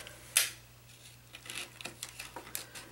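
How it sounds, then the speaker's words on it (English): Scissors snipping away excess clear plastic from a cupcake favor box, a sharp cut near the start followed by a run of smaller, quick snips and rustles, close and quiet with no talking. "So I'm cutting the bulk of the plastic off."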